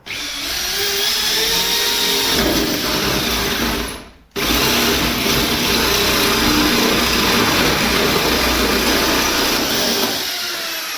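A power drill whines steadily and loudly while boring a hole through a car bulkhead on a Nova being rebuilt, running continuously with one brief pause near the middle before resuming.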